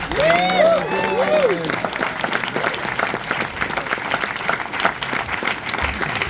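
An audience at a cast Q&A event at Dynasty Typewriter in Los Angeles applauds, a dense, sustained clapping with a few cheers, while a voice talks over the start.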